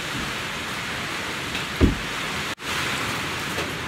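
Heavy rain pours in a dense, steady hiss, with a couple of brief thumps and a sudden momentary dropout partway through.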